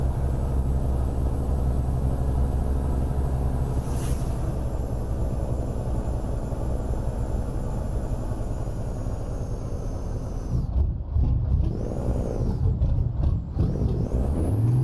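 A truck engine in American Truck Simulator drones steadily at low pitch throughout, loud and close, with a hiss of air near the end.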